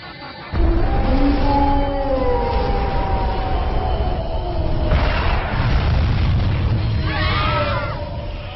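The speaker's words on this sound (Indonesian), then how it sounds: "Tembakan gelombang ultra aktifkan." A cartoon ultra wave cannon fires with a sustained, loud roaring blast that swells and surges for several seconds, a wavering siren-like whine riding over it before it tapers off.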